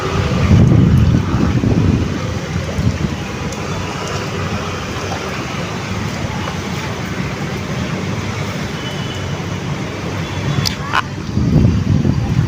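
Heavy rain floods a road in Ahmedabad, pouring down in a steady, loud roar of rushing water, with wind buffeting the microphone and louder gusts near the start and end.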